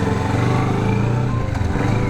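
Motorcycle fitted with a throttle lock on a test ride, its engine droning steadily and loud at close range with a slight dip in pitch midway.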